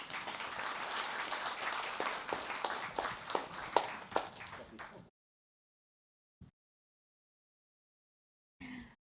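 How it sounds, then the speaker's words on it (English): Audience applause welcoming scientists onto the stage at a science seminar, a dense burst of clapping about five seconds long that stops abruptly, followed by near silence with a couple of faint brief sounds. "Let's welcome our scientists with a big round of applause."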